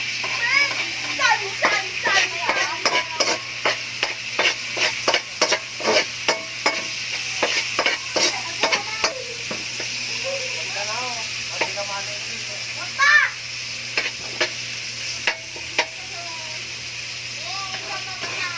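Garlic sautéing in a pan while being stirred, with a constant sizzle and a run of sharp scraping and clattering strokes. Voices talk in the background.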